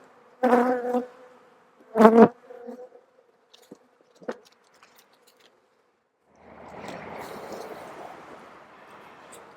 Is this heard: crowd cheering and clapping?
no